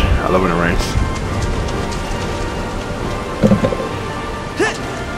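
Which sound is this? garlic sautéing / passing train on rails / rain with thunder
rain with thunder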